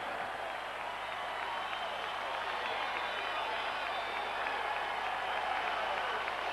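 Large ballpark crowd at County Stadium roaring and applauding in a steady, dense wash of cheers and clapping that holds at full volume throughout, with no break.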